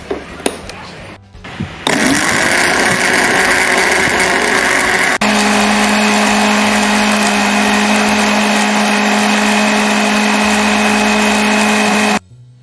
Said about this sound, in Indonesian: Langkah yang pertama yaitu masukkan potongan koran ke dalam blender secukupnya.